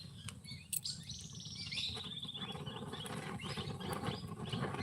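A flock of small birds twitters among a bamboo grove outdoors, overlapping chirps and trills that build into a steady, busy chorus, heard at a modest distance with a low background hum and no voices.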